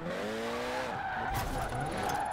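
Tires of a drift car skid and squeal in Forza Horizon 4, a continuous screech over a droning engine that shifts pitch midway, with a short burst of higher squeal near the end.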